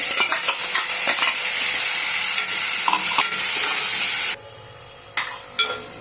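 Tomato puree made from a medium tomato hits hot oil for a mutton curry, giving a loud, close, hissing sizzle with stirring that suddenly drops away to near quiet, followed by a couple of brief scraping bursts.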